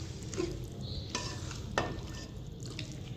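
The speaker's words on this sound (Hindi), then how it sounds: "कुकिंग ऑयल ऐड करने के बाद हम इसे अच्छे से पहले मिक्स करेंगे" Pumpkin sabzi is stirred in a pan with cooking oil, soft scraping and faint sizzling close up, punctuated by a couple of brief utensil clicks.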